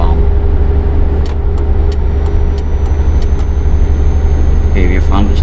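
A truck rolls along the Autobahn in Euro Truck Simulator 2, its steady low engine and road rumble running without a break. A few faint clicks and a brief chirp surface over it.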